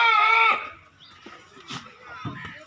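A goat bleats loudly at a livestock market for half a second, then faint scattered bleats and shuffling follow at a lower level.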